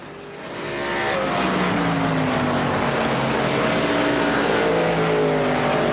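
Several race truck engines in an eSports racing game's Northwest Truck Series Auto Club 200 drone together with a steady, layered roar that rises over the first second and then holds a constant, loud pitch with no talking.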